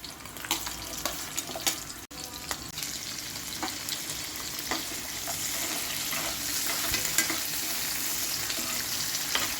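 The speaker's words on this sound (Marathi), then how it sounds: "सगळ्यात आधी कांदा टोमॅटो भाजून घेणार आहे" Onion and tomato sizzle and crackle steadily in a hot pan, with occasional stirring clicks and scrapes over a continuous frying hiss.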